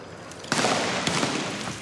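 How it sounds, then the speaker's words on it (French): Gunfire from drug traffickers rings out in a Brazilian neighborhood as a warning of police arrival, a few sharp distant cracks over a constant outdoor rumble, with no voices. "Des coups de feu."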